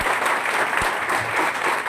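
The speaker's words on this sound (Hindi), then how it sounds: "तो जोरदार तालियां" A short burst of applause from a gathered group at a celebration of years free from addiction, moderately loud and continuous.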